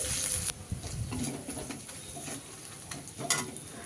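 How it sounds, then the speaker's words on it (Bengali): Ginger garlic paste frying in a pan during home cooking, a steady close sizzle with occasional stirring scrapes and faint birdsong in the background. "আদা রসুনের পেস্টটা দিয়ে আমি কিন্তু ভালো করে কাঁচা গন্ধটা চলে যাওয়া পর্যন্ত কষিয়ে নিতে থাকবো"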